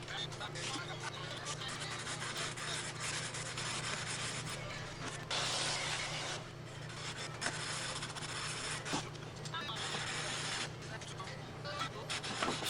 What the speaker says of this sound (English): we'll do 80 grit to get it flat, and then 320 grit to get it nice and smooth